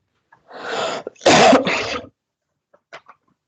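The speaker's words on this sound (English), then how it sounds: "I mute myself and cough again" A person coughs nearby, a rough cough followed by a sharper, louder burst, then a faint throat noise before it goes quiet.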